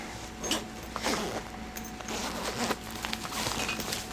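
A zipper on a simple slide pocket pulled in several short, rasping bursts, with small fabric rustles and handling sounds between the pulls.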